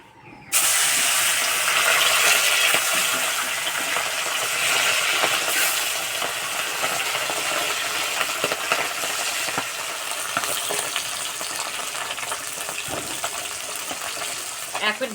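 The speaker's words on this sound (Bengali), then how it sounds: "তেল গরম হয়ে গেছে, মাছ ভেজে নেব।" Fish frying in hot mustard oil in a kadai, a loud, dense crackling sizzle that bursts in suddenly and stays continuous and close, easing slightly over time.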